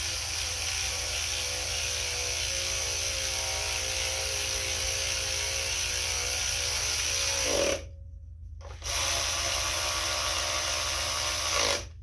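A power tool runs in a steady, loud, close whine while tightening bolts on the shroud of a Cub Cadet LT1046 riding mower, cutting out briefly for about a second before resuming.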